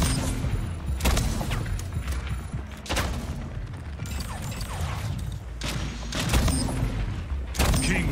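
Bursts of gunfire from the arena shooter Splitgate crack out in several separate volleys over steady game noise, fairly close.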